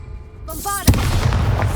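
Bombarda explosion spell in Hogwarts Legacy, a single loud, close boom that swells out of a brief rising magical tone and then rumbles on with debris and echo.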